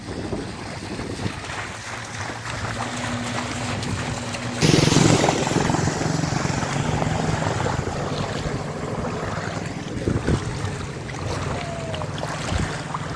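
A steady, loud roar of the flooded Vartu River at Jamraval, Gujarat, during heavy rain fills the scene, with wind buffeting the microphone and occasional louder surges.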